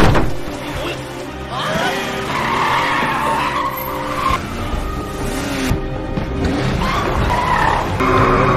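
Tires skid and squeal repeatedly during a car chase in the film The Man From Nowhere, loud screeching bursts over revving engines and crunching impacts, with some shouting mixed in.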